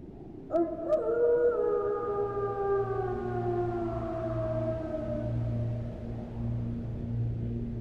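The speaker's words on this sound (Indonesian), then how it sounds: "lolongan anjing di kejauhan yang menghiasi malam" A dog howls far off at night, a long wavering cry starting after a sharp onset and slowly fading over several seconds, with a steady low hum underneath and no voices.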